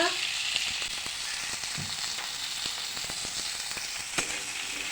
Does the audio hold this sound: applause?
no